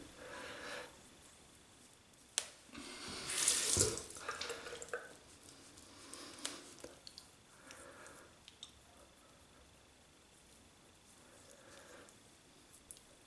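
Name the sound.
running tap water wetting an alum block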